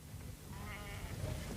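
Sheep bleating while being hand-fed contaminated thistles, a few soft, wavering calls rising over low rumbling background noise, fairly close but not loud.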